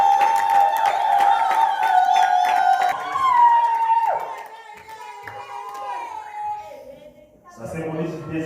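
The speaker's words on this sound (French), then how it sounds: "on peut aussi l'encourager par les acclamations alors qu'il s'approche" Wedding guests at a family ceremony in Kirksville cheer as the groom approaches, with sustained high wavering vocal cries and crowd noise fading out before a fresh burst of voices at the end.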